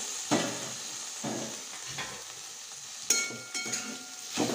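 A spatula stirs covered bitter gourd sabzi in a pan, soft scraping strokes at intervals over a faint steady sizzle, close and quiet, no voices.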